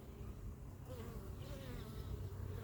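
Honeybees drone around a hive, a dense, continuous buzz with individual bees whining past up close, wavering in pitch over the low hum of the colony.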